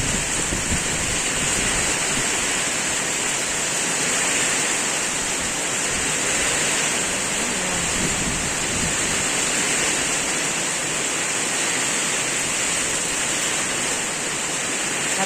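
Heavy rain with strong wind pours down in a constant, dense hiss that stays loud and unbroken throughout, with no voices.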